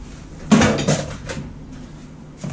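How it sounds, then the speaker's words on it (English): Parts being tossed into a drawer in a garage during a Jeep TJ motor mount job: a loud clunk and rattle near the start, then a few softer knocks and a faint final bump, with no talking. "Yes, I just throw them in a drawer."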